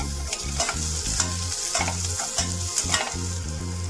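Crushed garlic hits a hot frying pan, producing a loud, close, continuous sizzle with sharp crackles and occasional scraping stirs, under a low droning rhythmic hum.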